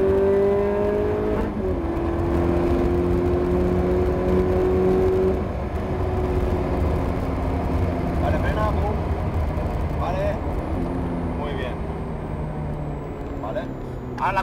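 A car accelerating hard on a driving course, the engine swelling into a loud, steady roar with rising harmonics, then holding and easing, while an instructor's voice talks over it throughout.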